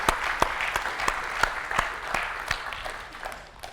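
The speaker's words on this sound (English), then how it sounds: "maybe we give all contributors to the open source community a big round of applause" A conference audience claps in a short, modest round of applause, scattered individual claps blending into a light patter that fades out over a few seconds.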